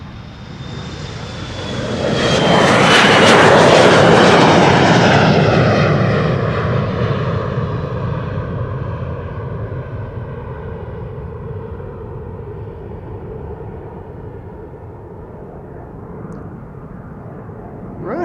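TUI Boeing 737 jet taking off at Amsterdam Schiphol airport, a loud rising engine roar that peaks and then fades into a long, slowly receding rumble, heard at a distance with no talking.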